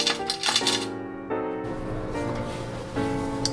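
Keys and a car fob are handled with bright metallic jingles and clinks. A few quick clusters come close together at the start, and one more small jingle follows near the end.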